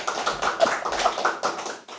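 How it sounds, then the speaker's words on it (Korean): A church congregation claps in a loose, uneven burst, many hands striking at once in irregular waves, moderately close with no talk over it. "저 같은 이럴 때 박수 한번 크게 치겠다."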